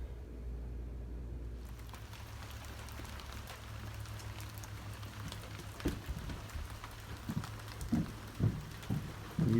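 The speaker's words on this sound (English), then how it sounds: "We've got ourselves a rainy day." Rain falls steadily on a rainy day in the mountains near Going to the Sun Road, a soft continuous patter with low rumble underneath and a few louder drips and knocks toward the end, no talking.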